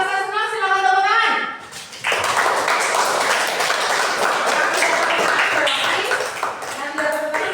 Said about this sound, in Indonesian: Yang merasa senang silakan tepuk tangan.